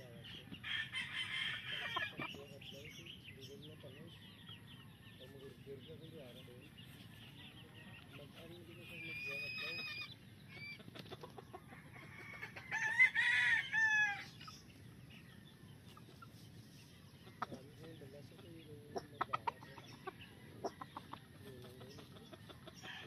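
A Duke Hulsey Grey broodcock gamefowl rooster crows with hens clucking, faint and mid-distance, a short crow bursting out near the middle amid low background rumble and quiet talk.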